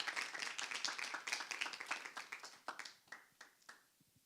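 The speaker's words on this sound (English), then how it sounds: "Please give Taiwo a round of applause." Small startup showcase audience claps for a presenter, distinct individual claps at first dense then thinning and tapering off to scattered final claps, fairly quiet.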